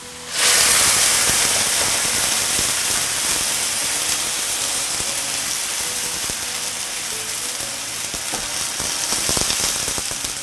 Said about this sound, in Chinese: 沿着锅边喷点花椒柳， 直接加入开水或者温水